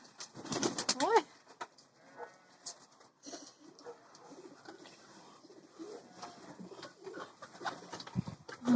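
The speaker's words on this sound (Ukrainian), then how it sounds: "Тут брат зробив голуб'ятню." Pigeons in a homemade dovecote on a village farm coo softly and flutter their wings, giving faint, scattered calls and flaps with a few louder bursts near the start.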